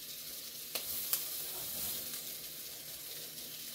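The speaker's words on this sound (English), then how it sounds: "Okay, we're going to add our onions to that. Our grilled onions." Grilled onions sizzle on a hoagie sandwich with melting cheese, giving a steady faint frying hiss with two brief sharp clicks near the start.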